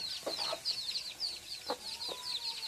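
A hen and her chicks cluck while being fed: high, rapid chick peeps chatter throughout, with a few louder, lower clucks breaking through at intervals.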